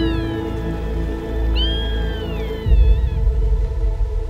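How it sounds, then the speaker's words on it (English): Golden jackal calling in the misty spring morning of a river delta, rising wavering wails heard over a low orchestral drone, followed by a deep rumbling swell of music. "Fifty years ago, this sound was unheard in the Delta. But today, golden jackals are thriving here."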